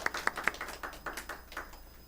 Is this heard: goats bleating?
no